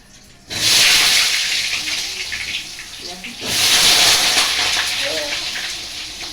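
Potatoes sizzling as they're sautéed in hot oil in a home kitchen pan, a loud bright hiss bursting in, easing off, then surging again before settling into a steady fry.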